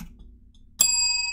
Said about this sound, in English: Synchro bell.